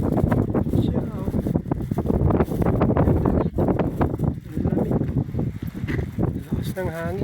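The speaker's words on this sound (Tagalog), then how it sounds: "Lakas ng hangin." Strong wind buffets the microphone on a roadside along the Caliraya highway in Lumban, a loud steady rumble that runs under someone talking throughout.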